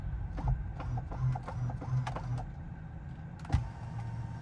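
An electrically adjusting Tesla steering column gives off a low steady motor whir with faint rhythmic ticking and a soft clunk near the end, heard close inside the car.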